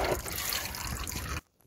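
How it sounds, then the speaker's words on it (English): Engine oil drains from the sump of an Audi EA888 engine into a tray in a steady liquid stream that stops abruptly near the end, leaving near silence. "Once all the oil's dripped out,"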